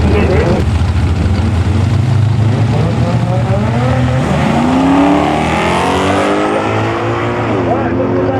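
A Ford Escort drag race car roars hard down the strip at a Tarlton Raceway regional meet, its engine loud and continuous with rising revs, while an announcer talks over it.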